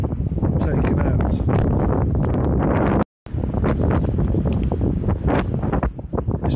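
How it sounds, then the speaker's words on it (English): Strong outdoor wind roars and buffets the microphone almost continuously, broken once by a brief cut to silence. "It's too windy."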